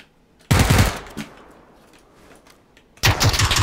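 Automatic gunfire in PUBG, two loud close bursts of rapid shots separated by a quieter gap with a fading tail and faint clatter.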